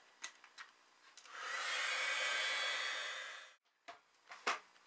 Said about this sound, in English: I'm going to dry it with my heat gun real quick